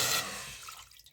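Water pours into a saucepan, about a cup for boiling white rice, as a brief splashy rush that tapers off within a second, close and alone.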